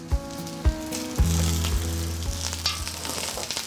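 Halved vegetables, cut lengthwise with the base kept, sizzle flesh side down in a cocotte, a steady bright crackle with several sharp clunks early on as pieces land in the hot pot, no talk.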